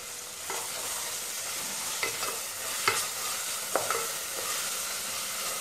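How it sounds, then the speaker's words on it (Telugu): Onions fry with ginger garlic paste for paneer capsicum dum biryani, a soft continuous sizzle with a few spatula taps and scrapes against the pan. "సో బాగా ఫ్రై అవ్వాలి"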